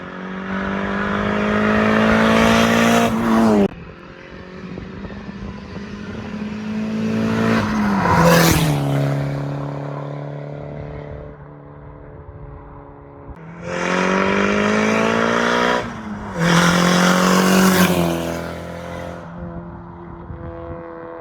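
A Mitsubishi Eclipse GSX with a turbo-back exhaust revs hard in repeated bursts, rising and falling with a throaty exhaust roar, then settles back to a rumbling idle between pulls.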